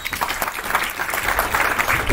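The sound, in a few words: audience applause for the graphics team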